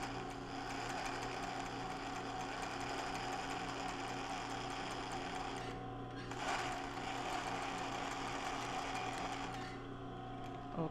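A sewing machine zigzag-stitches yarn onto loose-weave linen, giving a steady, fast mechanical chatter that runs nearly continuously with one brief pause midway.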